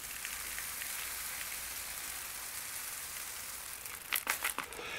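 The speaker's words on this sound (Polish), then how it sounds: "Rain stick, kij deszczowy, a czasa zaklinacz deszczu." A rain stick produces a steady, hissing patter like falling rain, continuous and soft, with a few brief rattling bursts near the end.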